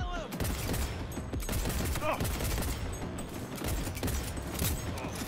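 Pistol gunfire in the Cyberpunk 2077 video game: rapid, dense volleys of loud shots crackle close and almost continuously, mixed with combat noise.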